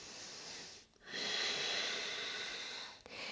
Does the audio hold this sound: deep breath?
yes